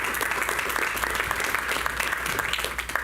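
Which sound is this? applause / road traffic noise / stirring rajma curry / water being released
applause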